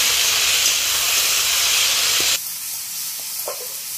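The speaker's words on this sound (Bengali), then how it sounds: "এখানে পেঁয়াজ, তারপর 2-3টে কাঁচা লঙ্কা ফাটিয়ে দিলাম, আর একটুখানি কালো জিরে দিলাম" Onions, green chillies and black cumin sizzle loudly in hot oil, a close, steady hiss that suddenly drops to a much quieter bubbling with a few faint clinks.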